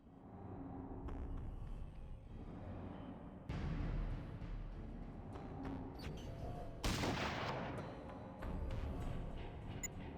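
Bursts of gunfire crack and boom over a rumbling battle din, several sharp volleys standing out among continuous shooting.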